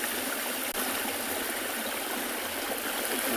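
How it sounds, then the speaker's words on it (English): Stream water flowing at a South African safari reserve, a steady, close, full-bodied rushing hiss with no voices, unbroken throughout. "Good just to sit and let you listen to the sounds of the water."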